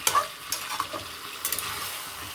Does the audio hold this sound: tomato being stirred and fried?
yes